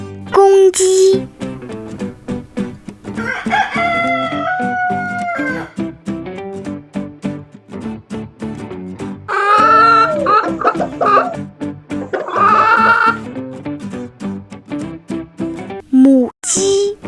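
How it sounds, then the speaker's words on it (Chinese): A rooster crows in a few drawn-out calls among other farm animal sounds, over a steady musical backing. "公鸡。"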